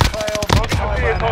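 Rapid automatic gunfire from a video game firefight rattles in a quick burst of closely spaced loud shots, with no talking.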